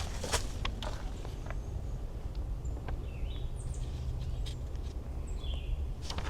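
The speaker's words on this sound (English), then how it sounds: "You can hear all the bird noises here." Outdoor ambience on a shaded nature trail at a nature center, with scattered high bird chirps and calls, some distant, over a steady low rumble and occasional crunchy footsteps.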